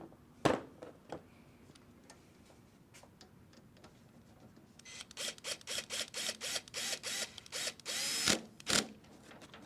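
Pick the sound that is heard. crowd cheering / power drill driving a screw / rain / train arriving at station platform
power drill driving a screw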